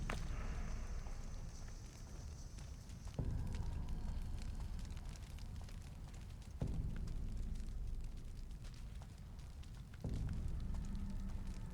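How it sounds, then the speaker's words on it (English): Open flames burning unattended in the Assassin's Creed Brotherhood video game, a continuous low roaring crackle that swells in loud bursts every few seconds, with no talk over it. "And that is quite poor fire management. Just leaving open flames unattended."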